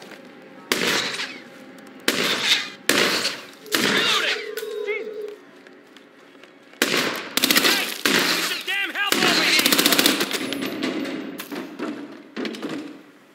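Loud bursts of automatic gunfire from the video game Hitman 2 crack out repeatedly in clusters, close and harsh, with shouting voices between the volleys.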